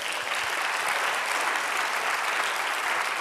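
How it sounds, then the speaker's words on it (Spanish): Sustained applause from a church congregation praising God during a sermon, a dense, even roar of clapping that stays loud and unbroken throughout. "Dale aplauso, alábele."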